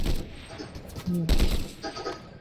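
Bursts of rapid gunfire in a Fortnite match, sharp clustered shots of varying loudness over a few seconds, with a player talking over them.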